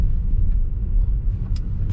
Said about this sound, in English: The car is trying to maintain some distance. It's slowing down.